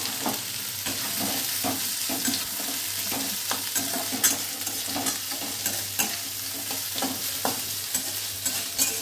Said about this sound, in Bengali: তেলটা গরম হয়ে গেছে। এবার এটাকে আমি পেঁয়াজটা ছেড়ে দেবো।